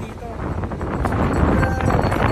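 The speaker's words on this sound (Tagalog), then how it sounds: "Napakalakas ng hangin." Strong coastal wind buffeting the microphone at Patapat Bridge near wind turbines, a loud continuous roar that builds slightly, with people talking underneath.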